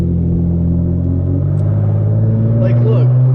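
Engine of a Hyundai Genesis Coupe fitted with a throttle controller, a low steady rumble heard from inside the car with a slight rise in revs toward the end, loud and close.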